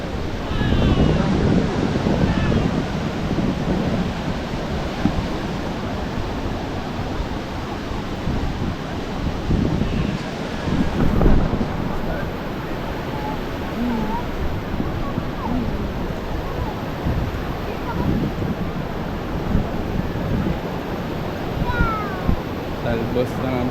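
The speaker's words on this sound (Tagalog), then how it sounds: "laging may alon" Continuous rushing roar of ocean surf on a beach at Baler, Aurora, mixed with gusty wind noise on the microphone, with voices talking intermittently over it.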